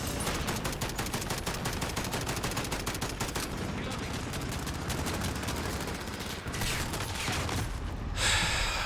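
Rapid automatic gunfire rattles in a steady stream during a Rust video game session, dense and continuous for several seconds, then breaks off into a brief burst near the end.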